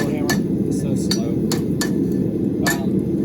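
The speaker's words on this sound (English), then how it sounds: "The only reason I don't like using this little hammer, it's so slow." A small hammer taps on an expanded metal handle in a series of sharp, ringing metallic strikes, about seven hits spaced unevenly over a steady shop background hum.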